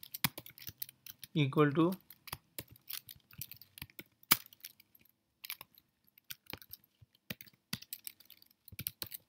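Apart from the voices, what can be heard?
typing code on a computer keyboard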